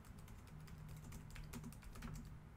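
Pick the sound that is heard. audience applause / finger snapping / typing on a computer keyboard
typing on a computer keyboard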